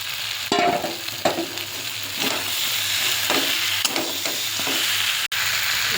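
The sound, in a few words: sautéing catla fish head muri ghonto in pan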